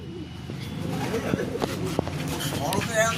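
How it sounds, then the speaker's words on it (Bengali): A Giribaj pigeon coos in low, repeated murmurs nearby while a person talks over it, with a few sharp clicks. "এই পায়রা যেটা দেখালাম গিরবাজ"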